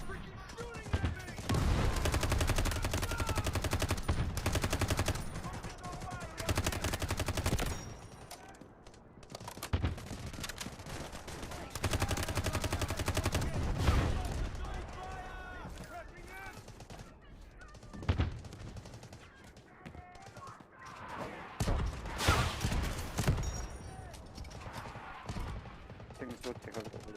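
Rapid bursts of gunfire from a BGMI battle-royale match at the BGIS 2025 Grand Final come in repeated loud volleys throughout, mixed with game effects and energetic commentators talking over the action.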